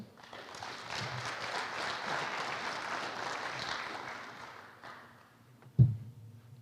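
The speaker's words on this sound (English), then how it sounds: "Let's give them a round of applause." Audience applause at a homecoming coronation, a broad steady wash of many hands clapping that fades out near the end, followed by one brief louder knock.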